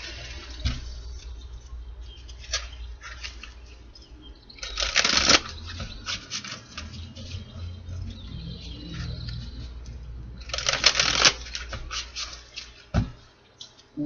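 A Santa Muerte tarot deck is shuffled twice, each a quick riffling burst, with soft handling sounds and quiet pauses in between.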